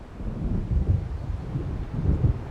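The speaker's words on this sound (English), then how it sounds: "It seems there's a storm coming." A thunderstorm builds in the Alan Wake Remastered video game, heard as a continuous deep rolling rumble of thunder with swelling low surges, fairly loud and steady, with no voices.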